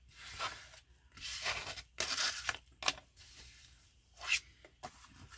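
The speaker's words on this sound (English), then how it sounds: "Sorry about all the crunchy noises. This paper has glitter on it." Crinkly, crunchy rustling of stiff glitter-coated paper comes in several quick bursts with short pauses between, close and fairly quiet.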